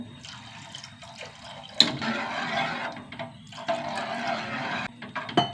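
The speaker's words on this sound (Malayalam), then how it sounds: "ഇതിലേക്ക് തേങ്ങാപ്പാൽ ഒഴിച്ചു കൊടുക്കാം കേട്ടോ." Coconut milk pours into a pan in two gushing, splashing bursts over a quieter kitchen background, the liquid sound close and fairly loud.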